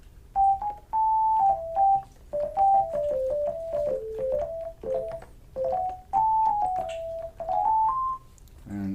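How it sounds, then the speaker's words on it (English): A pure sine tone from a Yamaha Reface DX FM synthesizer plays a stepwise melody of clean, steady notes, each a single clear pitch without overtones, sounding loud and close with short gaps between phrases. "It's a sine wave, which is the purest of the sound waves"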